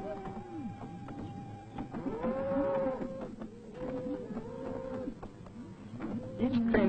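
A herd of cattle being transported by rail to market gives repeated low moos that rise and fall over a steady background rumble, while someone narrates over them.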